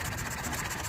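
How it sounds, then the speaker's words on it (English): A John Deere Model E antique stationary engine, about 3 horsepower, runs at a tractor show, a close, steady mechanical chugging with rapid rhythmic pulses. "So John Deere Model E, like ours, looks to be probably a 3 horsepower."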